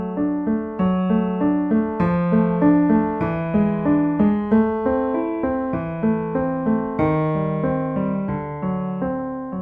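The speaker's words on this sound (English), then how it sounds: "if I play again, but using a finger pedal technique, still without the pedal" Piano at beginner level, finger pedalling with no sustain pedal: a steady run of quaver notes whose lower tones are held so they overlap and ring into one another, played alone and close.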